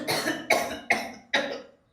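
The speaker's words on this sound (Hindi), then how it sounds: "तेरे इस बुढ़ा को है ना खांसा चल रहा है" An old man coughs in four separate harsh bursts about half a second apart, each fading before the next, close and fairly loud, followed by a brief sharp sound at the end.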